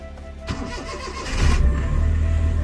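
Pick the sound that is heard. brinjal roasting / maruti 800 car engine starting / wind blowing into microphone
maruti 800 car engine starting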